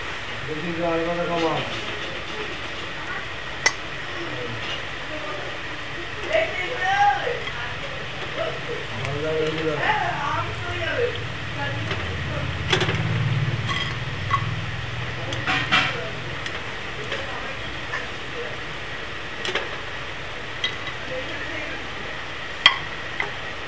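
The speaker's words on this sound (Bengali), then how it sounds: "সব বড়াটা ভেজে নেব।" Sabudana pakoras fry in hot oil, giving a steady, low sizzling hiss throughout, with occasional small crackles and pops, while a person talks over it.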